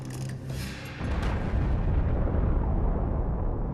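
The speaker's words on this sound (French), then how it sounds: "les États-Unis font exploser la plus puissante bombe H jamais testée" A deep, rumbling explosion of the Castle Bravo H-bomb test at Bikini Atoll builds into a sustained low roar that fills the clip.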